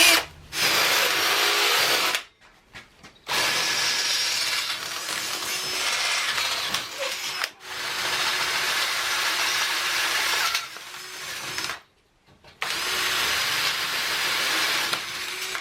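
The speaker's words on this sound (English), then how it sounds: "Let's see if I can break another drill." Power drill boring holes for casters into an Axminster saw pedestal, several long bursts of whining drilling separated by short pauses, close and loud.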